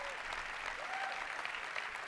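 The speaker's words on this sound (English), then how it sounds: "People are cheering for you, Lola." An audience applauds and cheers at the Facebook F8 keynote, a brief burst of dense clapping heard at a distance, fairly faint and steady.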